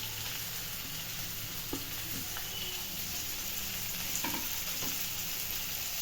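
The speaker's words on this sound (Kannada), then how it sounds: "ಇದೊಂದು ಎರಡು ನಿಮಿಷ ಚೆನ್ನಾಗಿ ಫ್ರೈ ಮಾಡ್ಕೊಂಡು ಈಗ ಎರಡು ನಿಮಿಷ ಕ್ಯಾಪ್ಸಿಕಮ್ಮು ಕ್ಯಾರೆಟ್ ಫ್ರೈ ಆಗಿದೆ" Capsicum and carrot frying in a pan while cooking bread toast, a steady crackling sizzle throughout with a few faint clicks of stirring, close and alone with no talk.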